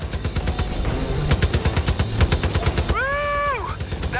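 Gunfire and explosions in Far Cry New Dawn on Xbox One: loud rapid bursts of automatic shots in a dense rhythmic string, followed by a whooshing, sweeping tone near the end.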